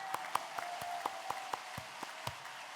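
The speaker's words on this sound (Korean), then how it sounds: "하나님을 향해서 우리가 한번 박수 한번 크게 쳐보죠." A church congregation claps for God at a Korean Holy Spirit revival service, a sparse run of separate hand claps spread through the room, fairly faint and distant over a low steady hum.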